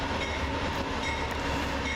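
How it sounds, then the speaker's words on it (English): An Amtrak veterans-livery locomotive-hauled train rolls into Altoona, a steady low rumble of wheels on rails heard from a distance with no voices. "Here's the veterans Amtrak unit going into Altoona."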